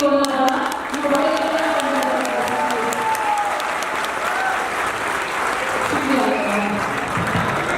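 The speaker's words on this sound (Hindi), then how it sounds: "आपके लिए ताली अपने आप बजाई," Sustained audience applause at a business launch event, a dense continuous wash of clapping from a large crowd, loud and steady throughout with murmuring voices mixed in.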